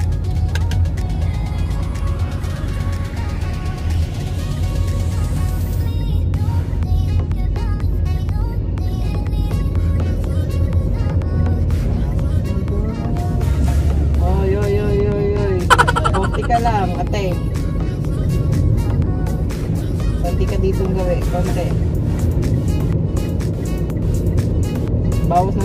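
A car driven by a learner driver hums and throbs steadily throughout, its engine drone loud and close, with voices talking over it inside the cabin.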